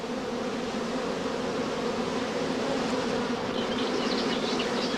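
Dense swarm of honey bees covering a comb just lifted out of the hive, giving a steady, close, continuous buzz with no pauses.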